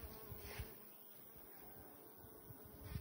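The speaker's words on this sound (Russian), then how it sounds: "На ней нет жуков, но много пчел." Bees buzz faintly among blooming rose bushes in a garden near an apiary, a quiet continuous hum with soft rising passes as insects fly close.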